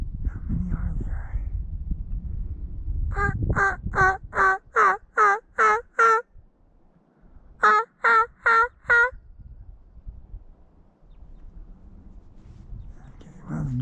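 Wild turkeys gobble outdoors during a spring scouting trip: two bursts of rapid, rattling calls, about seven then four in quick succession, clear and fairly close, with soft whispering before and after.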